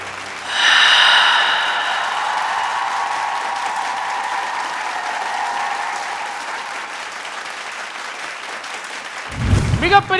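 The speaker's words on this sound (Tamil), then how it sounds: "மிகப்பெரிய ஒரு கைத்தட்டல் ஈஷோப் அண்ட் அக்ஷதாக்கு." Audience applause at a Tamil stage dance show, rising sharply and holding as a steady broadband clatter for most of the clip, fading slightly before a louder burst near the end, with some crowd noise mixed in.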